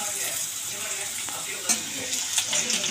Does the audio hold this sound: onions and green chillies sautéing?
yes